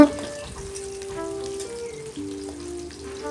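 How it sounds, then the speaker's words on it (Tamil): Small onions being sautéed in a pan, with a continuous frying crackle and sizzle close by at moderate level, a sharper burst right at the start and faint tonal hum running underneath. "நல்லா வதக்கிக்கலாம் முக்கால் பதத்துக்கு வதக்கினாலே போதும்"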